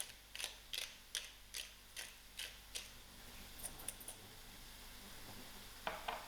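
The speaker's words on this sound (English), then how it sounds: "I'm going to give a generous grind of pepper" A pepper mill gives a generous grind over a pan of frying garlic, its turns coming as a row of faint, evenly spaced crunchy strokes over a soft steady sizzle, with one brief scrape near the end.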